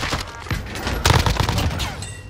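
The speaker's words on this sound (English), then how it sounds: "Somebody's shooting." Rapid bursts of gunfire crackle through a shooter video game as a player hides inside a building, several loud volleys overlapping into a dense fusillade for a couple of seconds.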